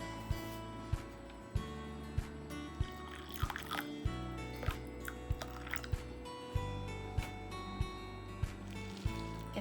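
Hot water is poured onto Thrive Life freeze-dried powdered eggs, producing faint trickling and dripping with repeated soft knocks and taps close by, steady over a humming background.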